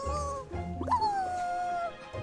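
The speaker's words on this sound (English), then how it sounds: "Whimper, whimper!" A dog whimpers with a high, wavering whine that rises and then trails downward for about a second, heard over a low continuous background hum.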